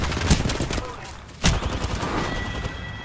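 Video game gunfire in a squad firefight, dense rapid bursts of shots with loud cracks near the start and in the middle, a voice speaking briefly underneath.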